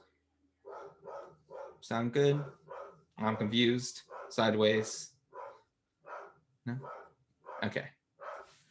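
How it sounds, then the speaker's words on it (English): Dogs bark in short repeated yips and bursts from nearby, interleaved with a person talking, the barks louder and sharper than the voice. "So sorry if you guys can hear my dogs right now, freaking out a little bit."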